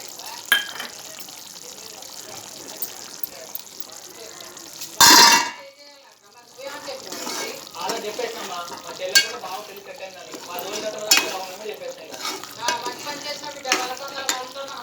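Brinjal kurma curry bubbles and fries in oil on a medium flame, a continuous close sizzle with scattered pops and stirring clatter, broken by a brief loud burst of hiss around the middle.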